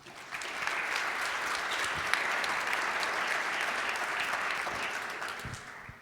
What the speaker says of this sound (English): I would appreciate a round of applause to all of our talkers this afternoon.